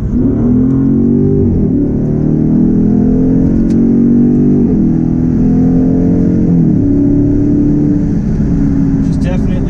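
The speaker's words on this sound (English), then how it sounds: "So as you can hear, this car is fast." A 2015 Dodge Charger R/T Scat Pack with a 485-horsepower engine accelerates hard, loud and close, its engine note climbing in pitch through several upshifts, with a brief dip at each gear change.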